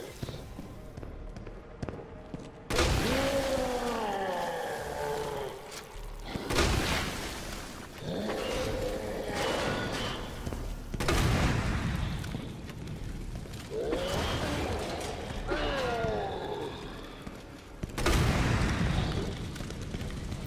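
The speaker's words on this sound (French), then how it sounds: "J'adore les effets de flammes et d'explosions." Explosions and roaring flames in the Resident Evil 2 remake, Claire B scenario: several heavy booms land several seconds apart, each followed by rumbling fire and swooping, growling tones, with faint talk beneath.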